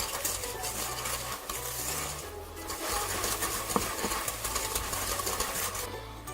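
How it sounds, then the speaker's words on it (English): Sugar, butter and avocado oil are mixed in a bowl for brownie batter, giving a continuous close scraping and stirring rasp with a few clinks against the bowl. "You're going to mix your sugar and your butter really, really well until it's all combined."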